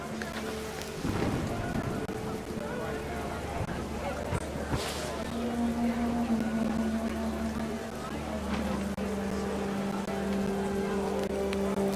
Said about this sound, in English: Rain came down in buckets then